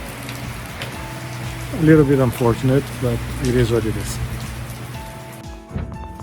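Steady rain falls on a rural Portuguese quinta, a constant wash of drops on surfaces running throughout, while a person talks over it in the middle.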